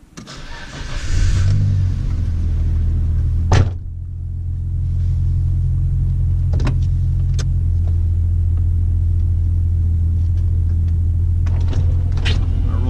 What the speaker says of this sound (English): we're gonna go ahead and test out the car